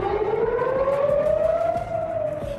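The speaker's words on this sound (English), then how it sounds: "Overnight sirens blaring across Israel as the airstrikes continue." An air raid siren wails steadily overnight in Israel, its rising tone sustained and loud throughout.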